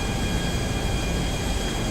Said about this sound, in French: on va réussir à essayer de faire un 2 tours avec l'avion